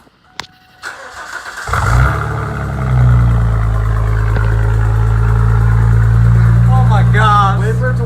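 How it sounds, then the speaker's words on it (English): A 2002 Ford Mustang engine cranks and fires for its first start through a junkyard exhaust, catching into a loud, deep rumbling idle that settles steady, close to the car, with voices and excited chatter over it near the end. "this is the first startup of the junkyard find exhaust"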